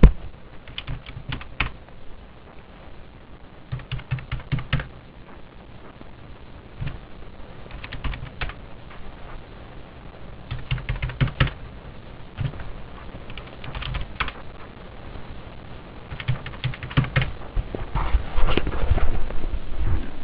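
Typing on a computer keyboard while entering accounting data, irregular bursts of close, crisp key clicks with short pauses between groups, no voices.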